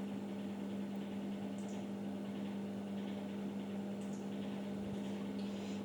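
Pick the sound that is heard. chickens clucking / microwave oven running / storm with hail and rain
microwave oven running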